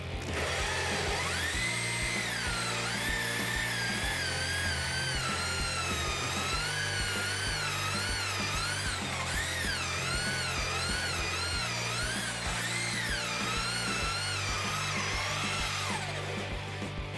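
A hole saw boring into a wooden disc, a continuous whining drill drone whose pitch wavers and rises under load, close and steady, with no talk.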